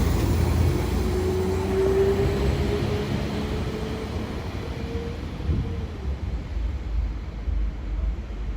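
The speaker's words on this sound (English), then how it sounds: "Train now passing through is one of these freight trains." A freight train rolls through a station at Newton-le-Willows with a steady heavy rumble and a drawn-out tonal whine that rises and fades over several seconds, carrying on without pause.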